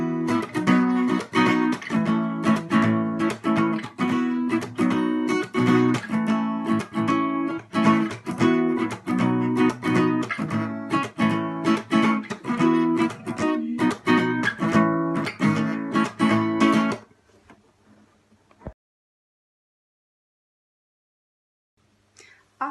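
Acoustic guitar strumming the chords of the verse of a song, a steady busy rhythm repeated for about seventeen seconds before stopping abruptly into near silence.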